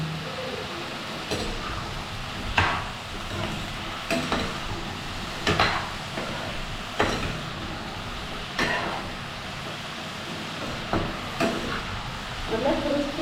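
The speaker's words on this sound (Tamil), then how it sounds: "எல்லா கத்திரிக்காயும் சேர்த்துட்டு நல்லா வதக்கி விடணும்." Eggplant pieces are stir-fried in oil for a kathirikkai thokku, with a continuous soft sizzle broken by periodic scraping strokes of a spatula against the pan, close and moderately loud.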